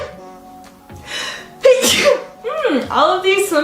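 A woman sneezes while handling dusty swimsuits, a sharp, close burst that comes after a quiet breathy build-up. A second forceful sneeze or gasp follows.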